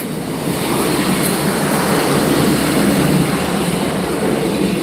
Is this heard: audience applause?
no